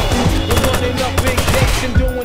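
Rapid bursts of gunfire in the Watch Dogs video game, loud and close, with sharp repeated shots and low thuds over a busy background of game sound.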